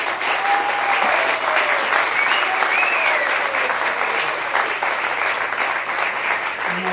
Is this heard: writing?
no